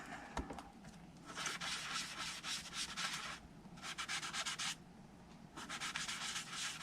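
Ink rubbed by fingers through a homemade stencil onto paper for a stamped craft box: bursts of dry, scratchy rubbing, close and fairly quiet, separated by short pauses.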